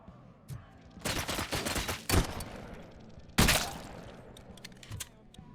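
Gunfire from the video game RoboCop: Rogue City: loud bursts of rapid shots in two main volleys, with scattered single cracks and thuds between them.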